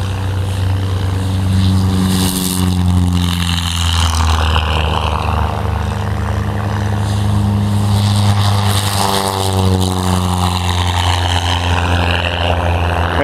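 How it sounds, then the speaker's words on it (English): Steady propeller engine drone from small planes flying low overhead in formation at an airport fly-in, loud and continuous with a rising and falling pitch as they sweep by. "going to be doing a formation flyby"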